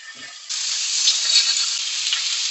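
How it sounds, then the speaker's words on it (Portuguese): Tofu hits hot olive oil in a frying pan and bursts into a loud, steady sizzle that starts abruptly after a brief quiet moment and holds at full strength, close by. "O azeite esquentou e eu posso adicionar o tofu."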